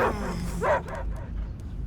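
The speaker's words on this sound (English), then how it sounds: "I hear only barking." Dog barking in the video game Guardians of the Galaxy, a couple of close, sharp barks and a yip at the start, then quieter game ambience.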